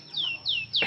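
A pet canary gives three quick descending chirps in a row, close and fairly loud, the last one cut by a brief noisy burst.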